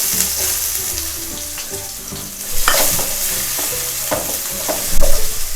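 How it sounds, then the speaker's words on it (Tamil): Sliced onions and green chillies sauté in hot oil in a pan for a Tamil-style chutney, with a steady close sizzle broken by scraping stirs and a few louder clatters of the spoon. "இதெல்லாம் நல்லா ஒரு 5 நிமிஷம் வதக்கிக்கணும்."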